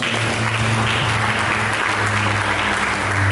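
A church congregation claps during a Sunday service. The applause is loud and continuous, with a steady low hum of sound system or organ tones underneath.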